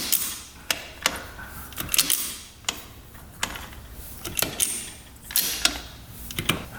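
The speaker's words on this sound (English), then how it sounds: "Alright, shifting through all the gears." A dirt bike transmission clicks and clunks through its gears, a series of sharp mechanical ticks and ratcheting knocks at an irregular pace, fairly close and quiet with no talk.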